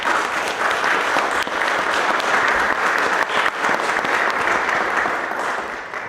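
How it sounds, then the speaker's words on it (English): Audience applause at the Howe Area Chamber of Commerce's Howe city candidate forum in April 2023, a steady, dense clapping from a large crowd that holds evenly for about six seconds before tapering slightly at the end. "how about a round of applause for all these?"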